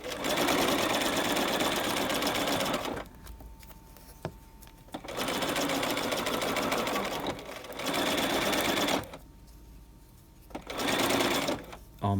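Sewing machine stitching the final seam of a piped pocket, running in three sustained bursts with short quiet pauses between them, close and steady.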